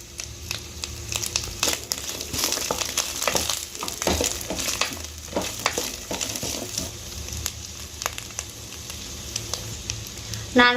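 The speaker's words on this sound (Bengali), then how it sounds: "নারকেল আর কাজু কিশমিশ ভাজা হয়ে গেছে।" Grated coconut, cashews and raisins fry in hot oil, a continuous crackling sizzle broken by frequent scraping and stirring clatter from a spatula in the pan.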